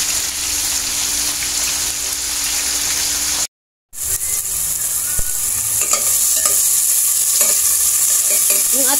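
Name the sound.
sautéing aromatics in a pan for tambakol fish stew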